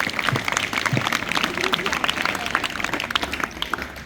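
An audience at a government senior secondary school house activities event gives a student a round of applause, dense rapid clapping heard at moderate distance throughout, with voices talking over it.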